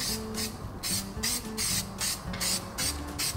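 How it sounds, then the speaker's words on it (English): Short hissing bursts of contact adhesive sprayed from an aerosol can onto a gasket, about seven spurts in a quick, uneven rhythm, close and fairly loud, with mechanical rattles between them. "you gotta watch when you spray this, it sprays out in a line."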